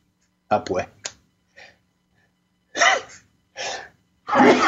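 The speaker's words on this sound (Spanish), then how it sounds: "Me perdonan, pero es que tengo un ataque de estornudo." A person having an allergy attack sneezes repeatedly in a quick fit of sharp, close bursts, with brief breaths in between and no other sound.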